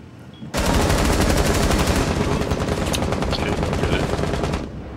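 Sustained automatic gunfire in the tactical shooter Rainbow Six Siege on the Oregon map, a loud rapid burst of shots that starts abruptly and keeps rattling for several seconds before cutting off, with faint voices in the background.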